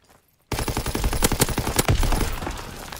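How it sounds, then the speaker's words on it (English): Pistol fire in Call of Duty WW2 gameplay: a loud, sudden burst of rapid shots that starts abruptly after a brief silence, with a few heavier cracks near the middle and the reverberation fading toward the end. "Okay, that was my pistol."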